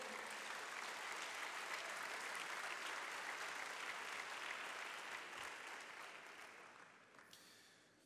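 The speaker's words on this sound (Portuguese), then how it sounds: "Vamos aplaudir ao Senhor." A church congregation claps together during a Wednesday worship service, a broad, continuous round of applause from many hands that holds steady and then gradually fades toward the end.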